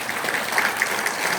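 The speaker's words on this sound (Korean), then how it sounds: "박수 한번 쳐주십시오" An audience claps together in a brief, dense burst of applause at an indoor gathering, steady and moderately loud.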